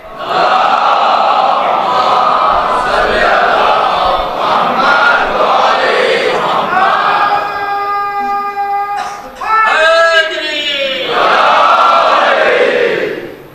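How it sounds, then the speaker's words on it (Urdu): At a Muharram majlis in Kanodar, Gujarat, a gathered congregation recites salawat aloud in unison, a loud chanted crowd response that swells, pauses briefly, then rises again with sustained melodic voices. "صلوات پڑھیں محمد و آل محمد پر"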